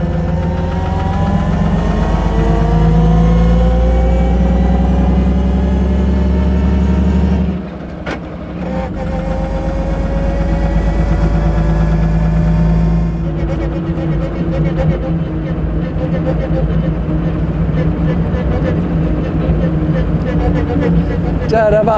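A 1927 Mercedes 680S Tourenwagen engine while driving: a loud, deep, throbbing rumble that dips briefly as if shifting gear, then resumes with a rougher, busier tone, while someone talks over it.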